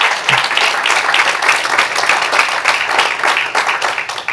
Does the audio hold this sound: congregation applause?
yes